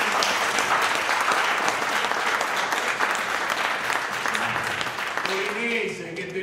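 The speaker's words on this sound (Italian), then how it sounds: "Dobbiamo fare un applauso a questo giovane attore." Audience applause at Turin's Carignano theatre for a young company actor making his debut there, dense and sustained for several seconds. It thins toward the end as a voice begins to speak.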